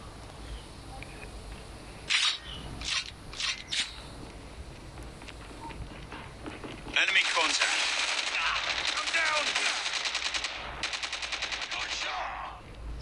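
Gunfire in Call of Duty Mobile: a few quick separate shots, then a long run of rapid automatic fire, with faint voices in the background.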